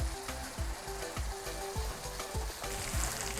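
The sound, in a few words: paste frying in a pan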